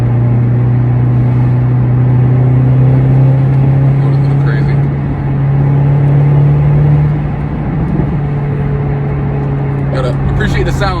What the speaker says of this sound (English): this road is a little bumpy right now